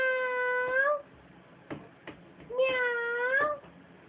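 A person's voice imitates a cat, giving two drawn-out, nasal meows separated by a pause, with a few soft knocks and thumps in between.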